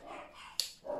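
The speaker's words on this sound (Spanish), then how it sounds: "vivo en una casa con 4 perros y no se callan, ellos quieren salir en los vídeos también" Several dogs in a house bark in short bursts, a sharp close yelp standing out midway and another bark rising near the end, with no talk over them.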